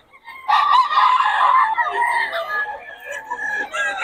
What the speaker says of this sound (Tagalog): May mga manok yan